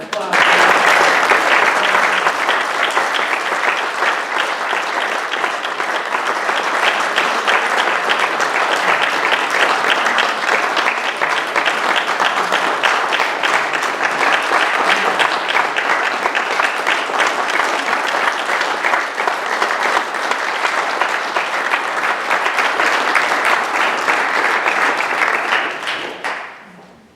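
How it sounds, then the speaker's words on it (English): Applause from an audience at an annual installation of officers ceremony, loud and sustained for about twenty-six seconds of dense clapping before it fades out at the end. "But give them one round of applause."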